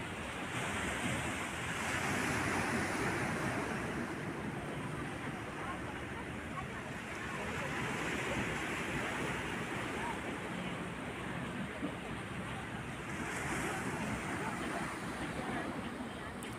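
High sea waves roll and crash against the Alexandria corniche under bright morning sun, a loud, continuous surf with swells every few seconds and steady wind buffeting the microphone.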